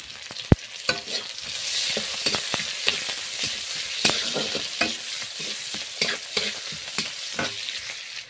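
Onion, dried red chilli, bay leaf and five-spice seeds frying in oil in a kadai, a busy close crackle and sizzle with sharp pops and repeated scraping stir strokes, loud and continuous.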